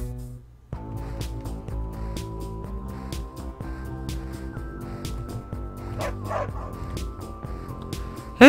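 Small dog barking in the video game Always Sometimes Monsters, repeated short yips over steady game music, moderately loud and close throughout.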